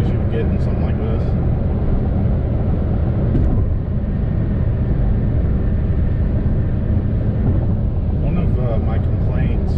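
Steady low rumble of road and wind noise fills the cabin of a Chevy Sonic cruising at about 80 on the highway, constant and broadband with no breaks, while a voice talks over it.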